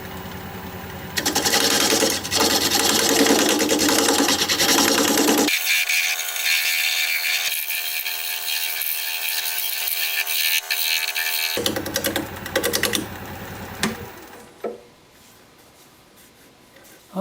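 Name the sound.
wood lathe shear scraping odd shaped mystery wood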